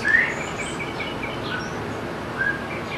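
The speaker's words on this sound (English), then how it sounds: "Listen to the birds." Birds chirp and whistle outdoors in a suburban yard in Livermore, short bright calls scattered over a soft steady insect-like background hiss, fairly close and alone with no talk.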